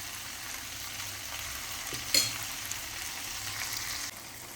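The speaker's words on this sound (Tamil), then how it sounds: "ஒரு 5 நிமிஷம் அப்படியே நல்லா வதக்கினா தக்காளி வெங்காயம் எல்லாம் மிக்சிங்காக அப்படியே ஒரு குழம்பு மாதிரி ரெடி ஆகிடும்" Chopped tomatoes and onions sauté in a pan for a village-style Tamil fish curry, giving a soft steady sizzle with one short sharp clink of a spoon partway through, close and quiet.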